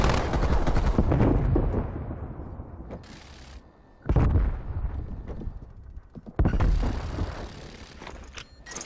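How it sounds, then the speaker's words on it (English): Bursts of rapid automatic gunfire from a sentry turret in a Call of Duty game rattle loud and close, in three long volleys separated by brief lulls. "Hostile sentry turret."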